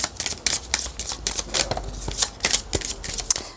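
Oracle cards being shuffled by hand for a French card reading, a close, loud run of rapid papery riffling bursts in an irregular rhythm, with no talking.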